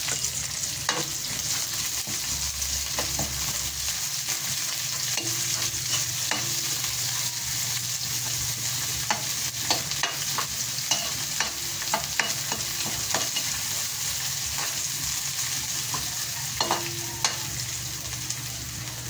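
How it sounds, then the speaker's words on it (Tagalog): Chopped onions sizzle in hot cooking oil in a pan, a continuous crackling hiss with occasional scrapes and knocks of stirring, close and steady with no talk. "Init ng mantika. Lagyan ko ng sibuyas."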